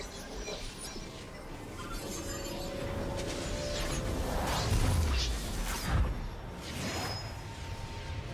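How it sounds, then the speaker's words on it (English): A League of Legends turret is destroyed in a top-lane Gwen versus Illaoi match, with a swelling whoosh leading into a crunching, shattering crash and glassy debris tinkles over a dense bed of game effects and music. "turret has been destroyed."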